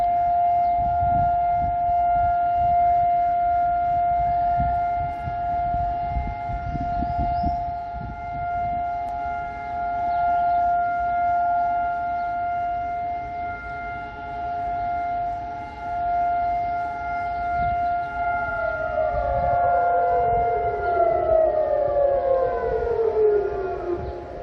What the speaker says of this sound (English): Sirens sound throughout the nation, and everyone stops what they're doing.